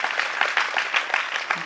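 An audience claps in dense, steady applause, a short burst of many hands with no voices standing out.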